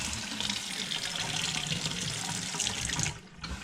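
Water pours steadily from a tap in a tiny house after a clogged filter was changed, with a bright hiss, then cuts off briefly near the end before trickling again.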